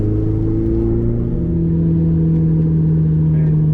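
A Ferrari 488 GTB on the Le Mans 24 Hours grand circuit, heard from inside as a loud, steady engine drone with a smooth, sustained tone that shifts slightly in pitch, and no break for the full length.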